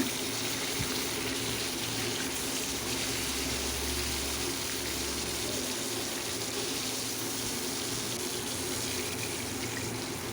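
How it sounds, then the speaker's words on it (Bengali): Rohu fish pieces, turned over to fry the second side in hot oil, give a steady, dense hiss that carries evenly through the whole clip with no voices. "এক পিঠ ভাজা হয়ে গেছে মাছের এখন আমি অন্য পিঠ উল্টে দিচ্ছি"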